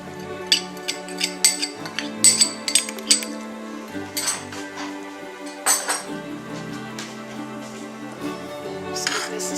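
A spoon stirs Mexican rice with garlic, cumin and chili powder in a pot, giving a series of irregular metallic clinks and scrapes, close and moderately loud, with no talking.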